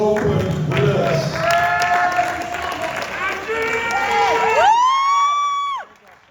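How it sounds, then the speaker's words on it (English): Applause and cheering greet the classic open winners at a bodybuilding competition, a crowd clapping and whooping under an announcer's amplified voice before it cuts off abruptly near the end. "Big round of applause for your classic open winners."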